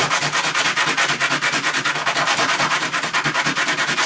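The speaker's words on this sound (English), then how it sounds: "I'm going to leave the sandpaper in place and move my piece back and forth" A small firesteel piece is rubbed back and forth on fixed sandpaper in a quick, steady rhythm of about eight strokes per second, each a gritty rasp, close and even for the full stretch.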